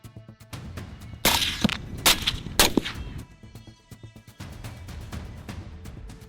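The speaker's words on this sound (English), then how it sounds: "A gunshot echoes through the deep forest." Gunfire in a deep forest: a few sharp, loud shots spaced about a second apart, each trailing off in a rolling echo over a low background rumble.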